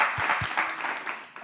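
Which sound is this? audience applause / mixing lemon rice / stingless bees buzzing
audience applause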